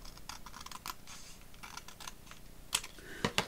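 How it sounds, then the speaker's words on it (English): Paper trimmed with scissors while assembling a bee-themed junk journal of ephemera: quiet, close crisp snips and rustles, with a few sharper clicks near the end. "So I'm just going to cut that down so it's level."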